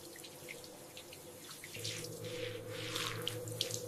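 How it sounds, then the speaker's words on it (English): Water runs from a shower in a home bathroom, a soft steady hiss of spray that swells slightly partway through, with faint splashing and no voices. "I take a shower."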